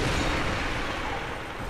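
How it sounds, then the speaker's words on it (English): An explosion in the video game Dark Souls 2, a dense, loud burst of broadband noise that fills the short moment without pause, with no talking. "Explosions."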